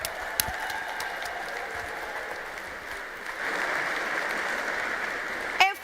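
Audience applause at a congress, steady clapping from a large crowd that swells slightly partway through before ending in a brief louder burst.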